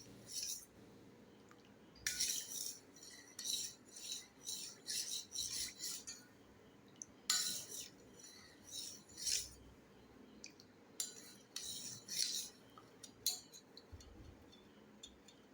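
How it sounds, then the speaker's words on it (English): Tomato soup stirred in a pot, a spoon scraping and clinking against the metal in repeated bursts of strokes with short pauses between, fairly close and moderately loud over a low background hum. "So guys, I am going to stir it for some time."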